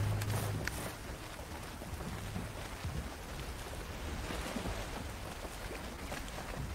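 Soft ocean waves and wind wash steadily in the Valheim video game, a faint, even surf with gentle swells and no talking.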